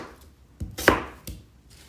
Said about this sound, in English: Cut the pear to little pieces.